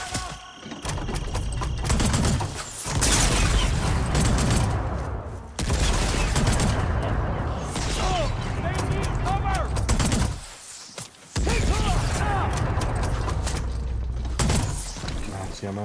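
Gunfire in the video game Horizon Forbidden West, with dense, sustained bursts of shots and clanking mechanisms running almost the whole way through, loud and close, briefly dropping out twice, with voices talking over the action.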